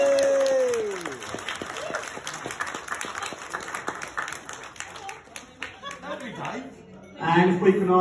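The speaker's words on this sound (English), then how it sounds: "Let's have some applause, everybody." Wedding guests clap together in a sustained round of applause, dense and steady at first and gradually thinning out, with a voice speaking over the end.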